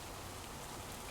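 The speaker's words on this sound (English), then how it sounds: "Yep, here's the rain." Steady rainfall in the Farming Simulator 25 video game, an even hiss of drops filling the whole moment with no breaks or other sounds.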